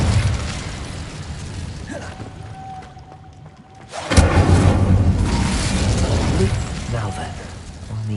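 A burst of fire flares up loudly as the Incendio spell is cast in Hogwarts Legacy, breaking a quieter stretch and leaving a sustained crackling roar under game ambience.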